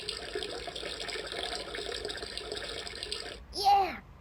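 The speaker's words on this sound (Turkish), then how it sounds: "Sifonu da bastı" A steady rushing water noise runs throughout, then a short gurgling whoosh at the end like a video game toilet flush draining away, with a voice briefly heard.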